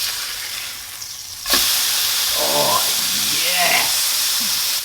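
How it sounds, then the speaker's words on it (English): Beef patty frying untouched in a hot pan, a steady loud sizzle that jumps up suddenly and then keeps hissing with small crackles and pops throughout. "I just like to let my meat sit and cook without moving it or touching it, so it really fries nicely on the other side"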